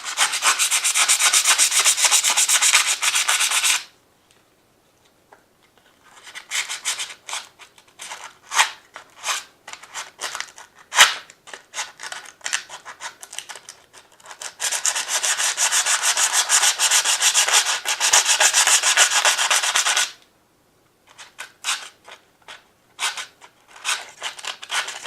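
Hand scuffing roughs up a Damascus knife's scale liner and bolster surface before gluing, with bursts of dry, hissing rubbing strokes separated by pauses and scattered short scrapes, close and fairly loud.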